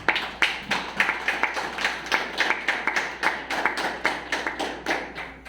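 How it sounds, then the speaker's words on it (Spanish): A church congregation applauds during a sermon, clapping in a fairly regular, rhythmic pattern of sharp hand claps, roughly three or four per second, close and clear without talk. "Denle un aplauso al Señor, iglesia"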